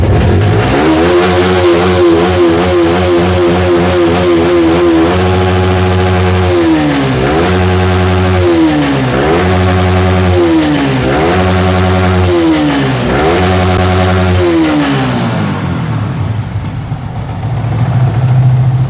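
A Yamaha R15 version 3 motorcycle, a 2000-series bike, revs loudly and close up, its engine rising and falling in repeated throttle blips from a steady idle before settling back down.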